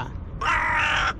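A single harsh, drawn-out caw from a crow, loud and close, lasting just under a second after a stretch of quiet outdoor background.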